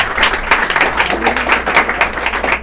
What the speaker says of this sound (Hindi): कुछ बच्चे इसलिए भी बीच में ताली बजाते हैं कि सर अब बहुत हो गया